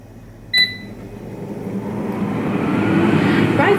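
An Ultenic dual air fryer beeps once as it starts, then its fan whooshes up into a steady, close, gradually louder running hum.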